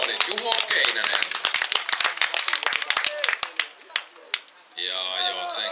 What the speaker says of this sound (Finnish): Annetaan aplodit Juho Keinänen.